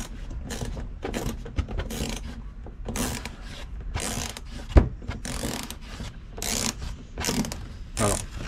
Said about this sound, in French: on va prendre une petite clé à cliquer